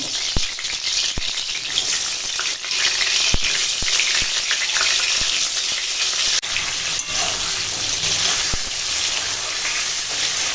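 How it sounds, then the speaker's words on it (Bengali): Pointed gourd pieces fry in hot oil in a wok, a steady loud sizzle with sharp clicks and rattles as they are stirred, no talking. "কড়াই দিয়ে দিয়েছি তেল আর এবার"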